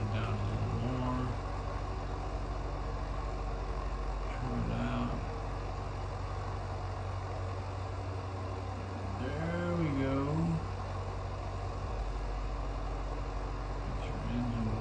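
A steady mid-pitched aircraft engine drone from the AeroCargo Xplorer cargo plane in a Nintendo Switch flight simulator hums continuously under close, calm spoken instructions, with slight level swells as the throttle changes.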